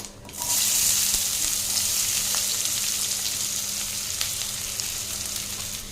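Three large chopped onions drop into hot oil with spices for a fried cabbage ball gravy, bursting into a loud, steady sizzle that carries on close up without speech.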